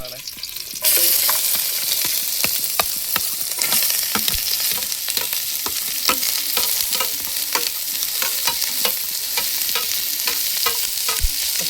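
Sliced onions drop into hot oil in a pan for a toddy-shop style chicken roast, setting off a sudden, loud, steady sizzle with scattered crackles and pops and occasional stirring scrapes, close and continuous.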